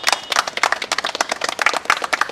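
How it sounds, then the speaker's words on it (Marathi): Dense applause from an audience at a 70th birthday felicitation of journalist Dattaram Ghuge in Dahisar, many hands clapping quickly and steadily, fairly close and without talk. "त्यांना जोरदार टाळ्यांनी त्यांचं पहिला स्वागत करा"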